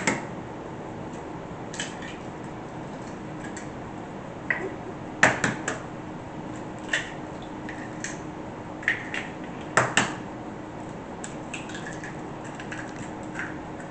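Eggs being cracked into a bowl for French toast, heard as a few sharp taps and cracks at intervals, fairly faint against quiet room noise.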